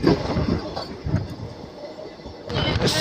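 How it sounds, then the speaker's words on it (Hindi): Passenger train pulling out of Ara Junction railway station in Bihar, a steady rolling rumble with some wheel noise throughout, swelling louder near the end. "अपनी ट्रेन फाइनली निकल रही है, देख लीजिए आरा जंक्शन रेलवे स्टेशन से।"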